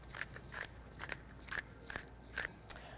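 Salt and coarse black pepper shaken over large lamb shanks: a close run of short, crisp rattling bursts in an uneven rhythm, with no talking.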